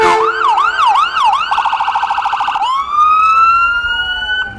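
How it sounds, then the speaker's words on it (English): A loud fire truck siren at a parade wails continuously, sweeping up and down in a fast yelp pattern before shifting into a long rising wail, close by with no talking. "it's great Having that fun with that siren"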